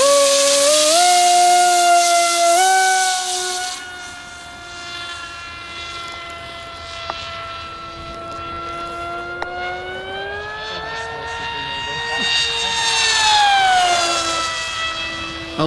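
A Mega Jet RC model jet plane's engine whines loud and close at an outdoor flying field, a high rising-and-falling turbine scream with steady harmonics that swell and dip in pitch throughout.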